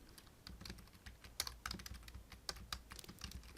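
Quiet, close computer keyboard typing while a file name is entered: a quick, uneven run of soft key clicks with a few sharper taps, alone.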